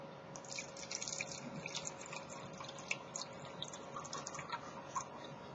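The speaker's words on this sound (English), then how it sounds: "Now let's pour the Kangen water" Kangen water poured into a container, a faint, steady trickle with light drips and splashes over a quiet background, continuous and close with no talking.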